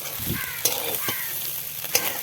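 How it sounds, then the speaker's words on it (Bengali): Rice being sautéed in a hot pan for a Bengali one-pot dish of rice, egg and potato, with a steady close sizzle and a few scraping stirs of a spoon against the pan. "আমার চালটা কিন্তু কষানো হয়ে গেছে"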